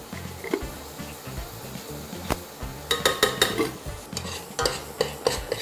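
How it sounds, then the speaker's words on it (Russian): Onion and flour fry together in a sauté pan, a low steady sizzle under repeated scraping and clinking of a utensil stirring against the metal, close and moderately quiet, with sharper taps toward the end. "Обжариваем лук вместе с мукой."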